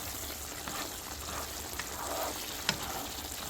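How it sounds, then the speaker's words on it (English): Ground beef sizzling and simmering in a pot while being stirred, a steady crackling fry with a few faint scrapes, no talking. "Just stir it a little bit so it doesn't stick to your pot"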